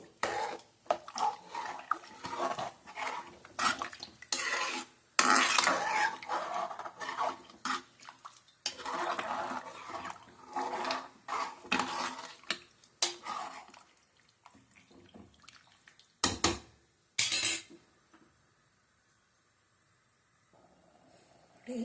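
Repeated scraping and clattering of a utensil against a pot of boiling carrot rice, in uneven bursts with short pauses, close by, fading to quiet near the end.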